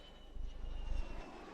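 A jet aircraft with landing gear down comes in to land at an air show, a steady low engine roar that swells slightly in the middle and stays fairly distant.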